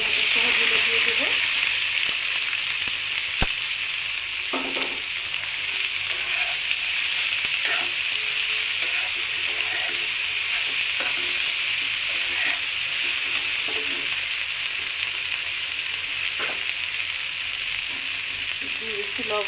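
Chopped onions and chilies fry in a pan for an okra fry, a steady close hissing sizzle with occasional light stirring taps.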